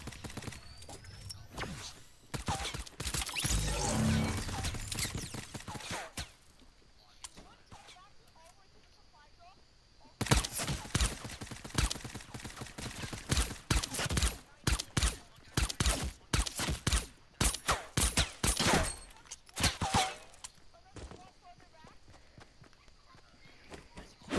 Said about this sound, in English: They're just all shooting at me.